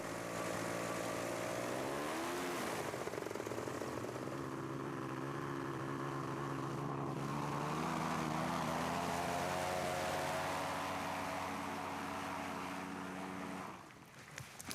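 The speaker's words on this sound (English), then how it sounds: "This engine maybe don't work so well." A motor glider's engine drones steadily and loudly during a flight over lakes and sand dunes in the Gobi Desert, holding an even tone for most of the stretch before dropping off near the end.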